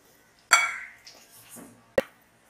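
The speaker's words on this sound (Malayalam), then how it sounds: "ഇതെല്ലാം കൂടി ഒന്ന് ജസ്റ്റ് നമുക്ക് മിക്സ് ചെയ്യണം കേട്ടോ." A spoon knocks against a bowl while cardamom and maida flour are mixed for kunji kalathappam, two sharp clinks with softer scraping between them, close and fairly quiet.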